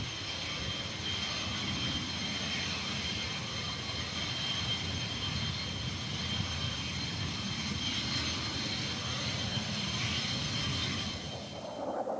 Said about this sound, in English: Roman Taskayev, and Yuri Yermakov were chosen to fly a MiG-29A single-seater and a MiG-29UB trainer to England